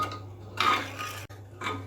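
A spoon stirs sugar into rice kheer in a pot, giving short close scraping and rubbing strokes against the pot in two brief bursts with quiet gaps between.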